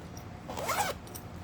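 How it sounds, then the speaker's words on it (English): A clothing zipper is pulled once in a quick, close rasping sweep lasting under a second in a quiet room. "Oops. Sorry about the zipper."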